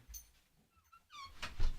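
A small dog whines and yips in a few short, rising whimpers, close by, followed by soft thumps and shuffling.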